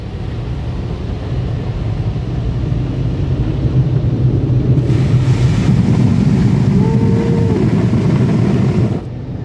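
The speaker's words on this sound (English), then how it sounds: "The blow dryer." Car wash blow dryers roaring over a car, a loud, broad rumbling rush heard from inside the vehicle that swells about halfway through and holds steady before easing off at the end.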